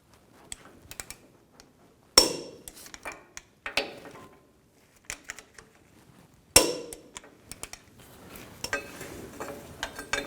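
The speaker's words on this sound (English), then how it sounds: "Now I'm going to torque these bolts to" A torque wrench tightening the brake caliper bracket bolts on a Ford E-250 to 129 foot-pounds: sparse, close metallic ticks and clicks broken by two sharp, louder clanks, with quiet gaps between them.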